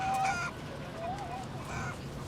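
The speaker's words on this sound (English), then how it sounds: "In keeping with their urban setting, the Brooklyn Grange chickens are assertive individuals." Assertive hens at the Brooklyn Grange urban farm in Brooklyn give a few short clucks and squawks over a steady background hum, moderately loud and close.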